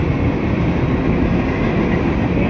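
A toy train set runs along its track in a room, a steady, fairly loud rolling rumble with no clear clacks or pauses over the whole stretch, and no one speaking.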